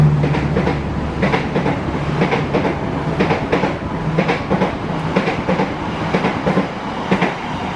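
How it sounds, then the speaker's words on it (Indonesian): KA Brantas passenger train running through Bekasi Timur station, a steady loud rumble with repeated clickety-clack wheel beats over rail joints throughout, no voices. "menunggu KA Brantas untuk melintas stasiun Bekasi Timur"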